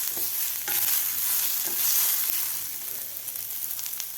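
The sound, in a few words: onion frying with garlic and ginger in a pan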